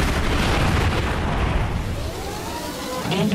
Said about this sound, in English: Missile.